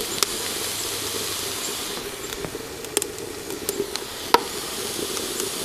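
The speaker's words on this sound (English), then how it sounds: "We are cooking with oil." Food sizzles in hot oil on a rocket stove with a continuous hiss and occasional small pops and crackles.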